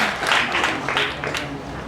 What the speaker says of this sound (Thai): ขอเสียงปรบมือต้อนรับท่านภูมิใจประทุมครับ